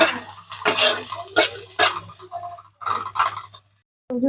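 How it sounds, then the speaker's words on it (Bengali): A spatula scrapes and clatters against a pan while onions, garlic, ginger and green chili stir-fry for homemade chow mein. The strokes come as close, loud, irregular bursts, with a short pause before a final scrape. "এটা হালকা ভাজা হয়ে গেলে দিয়ে দেবো রসুন কুচি, আদা কুচি, কাঁচা লঙ্কা কুচি দিয়ে ভালো করে ভাজি নেবো।"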